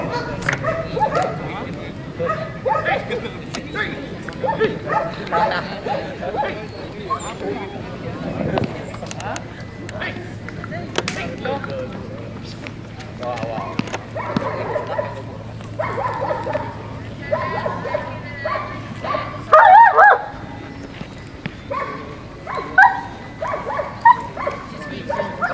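During a compliance test at a dog show in the Philippines, a dog barks in sharp, scattered bursts, with some yips and whimpers. Announcer speech and background crowd chatter run throughout.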